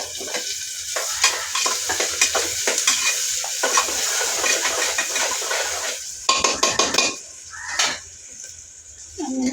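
Green chillies hit hot oil in a pan for soybean pulao, a steady close sizzle and frying hiss with spoon stirring scrapes and a few clinks of utensil against the pan, no talking.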